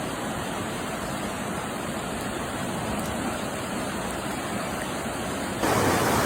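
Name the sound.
rushing floodwater in stormwater creek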